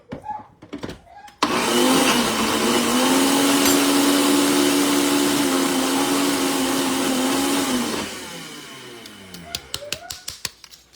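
A blender whirs steadily for about six seconds, churning a thick batter of cottage cheese and egg for naan, the motor strained and loud before cutting off, with scattered clicks and handling noises around it.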